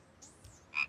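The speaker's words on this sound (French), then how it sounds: "Peu de temps après, les grenouilles sautent hors de l'eau." A cartoon frog gives a quick pair of bright, close croaks after a soft whistling sweep.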